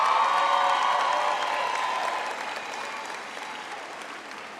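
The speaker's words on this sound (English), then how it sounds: "Please applaud them and thank them." A graduation audience applauds its lecturers and supervisors, a broad sustained wash of clapping from a large hall crowd that gradually thins and fades over a few seconds.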